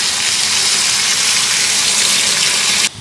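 Cold tap water gushing into a container, a loud steady rushing stream close by that cuts off abruptly near the end.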